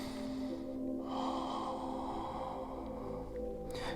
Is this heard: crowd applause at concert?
no